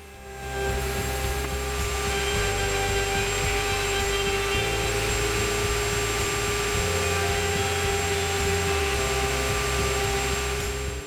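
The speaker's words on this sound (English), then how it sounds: "I route a 1/4 inch roundover in the interior corners of the pieces" A router cuts a quarter-inch roundover into wooden handrail pieces, giving a loud, steady high-pitched whine that holds constant for about ten seconds, close and without talk.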